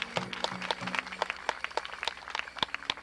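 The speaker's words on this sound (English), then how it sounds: "You give him a big round of applause" An audience at a Caddo Adais Indian festival applauds the tribal chairman, with quiet, fairly distant scattered claps pattering steadily for a few seconds.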